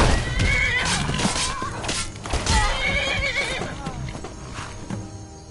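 A horse neighs and whinnies loudly with clip-clopping hooves, up close and continuous throughout, with some thuds mixed in.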